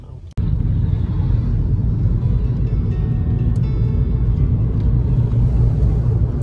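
Car driving along a road toward a ski resort in Finland, a steady loud low engine and tyre rumble heard from inside the cabin, starting abruptly after a brief quieter moment and holding constant.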